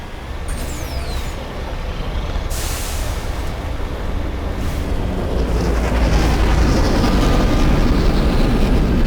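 A spacecraft flyby in the video game Mass Effect, a loud, steady rumbling roar that gradually swells and grows heavier, with a brief hissing burst early on and no talking.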